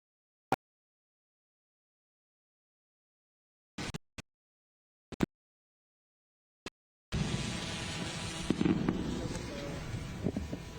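Fireworks at a presidential drone show event in Uganda. A few sharp, isolated bangs ring out over near silence, then a dense, continuous crackling barrage takes over and stays loud to the end.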